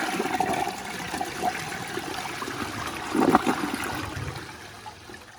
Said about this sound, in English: I'm going to do another normal flush before then